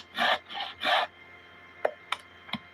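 Bucksaw strokes cutting a shaped dovetail in wood: three loud, raspy back-and-forth strokes, then a few sharp, brief knocks.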